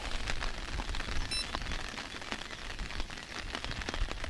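Steady heavy downpour patters on a surface during a fishing trip, a dense hiss of drops with scattered sharper taps, continuous and fairly close throughout.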